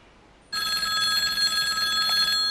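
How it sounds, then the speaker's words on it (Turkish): A telephone rings loudly and steadily after a brief quiet moment, a continuous electronic bell tone filling the rest of the clip. "Telefon babacığım."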